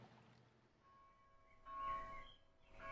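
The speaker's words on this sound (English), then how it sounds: "The church bell sound." Church bell chiming in a farming video game, a soft, sustained ringing tone that swells louder midway, set among quiet ambient game sounds.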